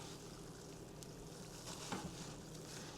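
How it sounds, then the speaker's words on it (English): A fermenting strawberry wine mixture in a large six-gallon batch gives off a faint, steady fizzing and bubbling hiss, low and continuous, with a brief soft pop near the end and no voices. "can y'all hear that? It's bubbling."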